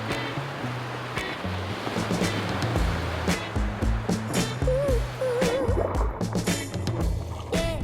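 Ocean surf rolling onto a Moreton Island beach, a broad continuous wash of breaking waves close by, joined by bursts of splashing and faint voices and calls over the water.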